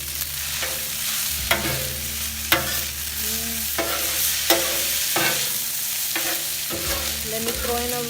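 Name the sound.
stirring Kung Pao chicken frying in olive oil on outdoor griddle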